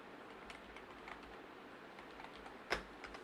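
Soft, rapid keystrokes on a computer keyboard typing characters, a faint steady patter of clicks with one sharper tap near the end, close and quiet.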